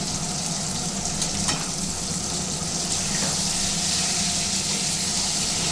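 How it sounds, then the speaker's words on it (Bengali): Chicken pieces frying with ground spices in a pan while being cooked down for a Bengali khichudi dish, a steady loud sizzle running throughout with occasional scrapes of stirring, no voices. "চিকেনটাকে খুব ভালো করে কষে নেবে"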